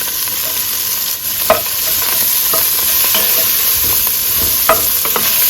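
Onion and five crushed garlic cloves sizzle steadily in a pot just after seared beef is lifted out, a continuous close frying hiss with occasional stirring scrapes and clicks, no talking.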